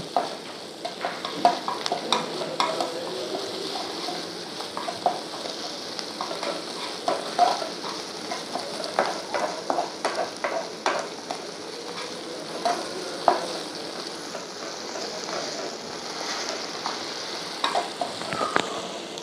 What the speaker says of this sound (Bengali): দিয়ে এবারে গ্যাসের ফ্লেমটাকে বাড়িয়ে দিয়ে ভেজে নেব।